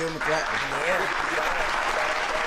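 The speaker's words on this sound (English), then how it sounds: "Let's give him a clap." Audience applause from a comedy club crowd, a steady wash of clapping that runs through the whole stretch while a voice talks over it.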